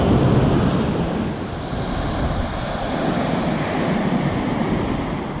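Ocean waves wash steadily onto a coastal beach, a loud, continuous roar of surf with wind buffeting the microphone throughout and no talking.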